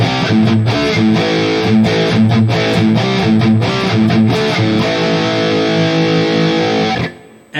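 Distorted electric guitar playing a rhythm part through an amp modeler with a Mesa V30 cabinet and hall reverb, loud chugging palm-muted chords with sustained notes, then cutting off abruptly near the end.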